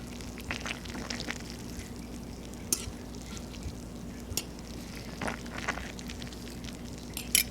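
A spoon stirs homemade apple cider vinegar in a jar, giving soft scraping and swishing with a few sharp clinks against the glass, close and fairly quiet, with no voices.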